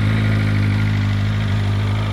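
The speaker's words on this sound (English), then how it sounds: "Drops down to a nice idle though." A 2021 BMW M 1000 RR motorcycle engine settles into a steady, loud idle just after startup, a constant low rumble with no talking over it.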